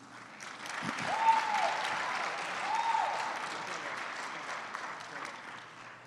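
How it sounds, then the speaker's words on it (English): Sustained applause from an audience at a community college student leadership summit, a dense patter of clapping that swells early, holds steady, then gradually tapers off. "One last round of applause"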